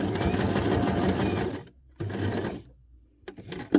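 A sewing machine stitches tiny paper scraps in a steady, loud whirring run, stops briefly, runs again for about half a second, then ends with a few short, quieter bursts.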